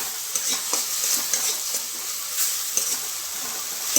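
Oil frying in a pan with tomato and a splash of water: a continuous hissing sizzle with soft bubbling pops and occasional stirring taps, close and even, no talking.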